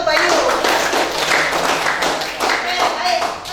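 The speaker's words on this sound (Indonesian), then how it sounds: "Kasih tepuk tangan untuk Bayu." A classroom of students gives applause for a classmate, a dense, continuous patter of hand claps mixed with voices throughout.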